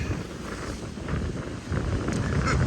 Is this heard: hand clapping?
no